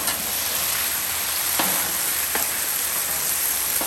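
Chicken lettuce wrap filling fries in a pan with a constant bright sizzle, close up, broken by a few soft stirring clicks.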